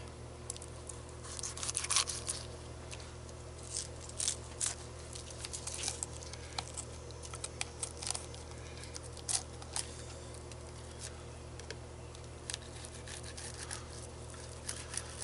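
Knife filleting a crappie, cutting through pin bones and along the rib cage: quiet, close scraping and crackly slicing in irregular bursts over a steady low hum, with no talking.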